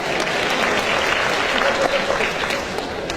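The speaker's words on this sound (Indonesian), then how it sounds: "tepuk tangan buat wanita-wanita Indonesia" An audience at a stand-up comedy show in Indonesia bursts into sustained applause, a dense, steady wash of clapping from many hands lasting the whole moment, with no speech heard during it.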